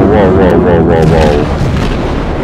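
Heavy warship guns boom in World of Warships, a loud rumbling barrage of low blasts rolling together while a voice speaks over them.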